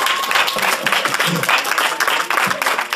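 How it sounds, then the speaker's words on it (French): Dense, continuous clapping from an audience at an event, a busy broadband patter that stays fairly loud and even for a few seconds. "Laissez applaudir."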